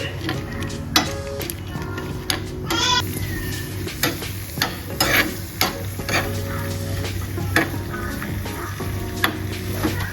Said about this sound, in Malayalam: നമുക്കിതിലേക്ക് പായസത്തിലേക്ക് അണ്ടിപ്പരിപ്പൊന്ന് വറുത്തിടാം.